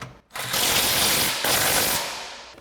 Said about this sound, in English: Now using our 13mm socket, we can tighten down our nut.